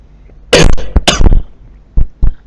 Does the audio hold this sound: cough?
yes